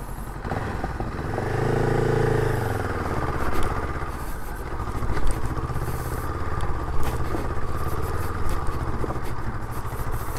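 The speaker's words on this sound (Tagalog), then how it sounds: "Honda Rebel dinala sa trail." Honda Rebel motorcycle engine ridden along a trail near a landslide on Kennon Road, a close, continuous rumbling drone with a brief rising rev early on and rough clattering texture throughout.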